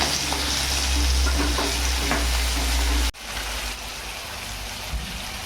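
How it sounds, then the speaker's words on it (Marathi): Onion, garlic and curry leaves sauté in hot oil in a pan for Maharashtrian besan pithla, giving a close, steady sizzle. The sizzle is loud at first, then drops suddenly to a quieter frying hiss. "याला मग चांगलं परतून घ्यायचं."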